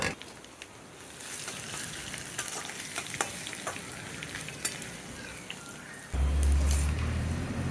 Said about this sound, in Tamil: ஒரு நாலு காஞ்ச மிளகா கட் பண்ணி போட்டுருங்க நல்லா ஃப்ரை பண்ணிங்க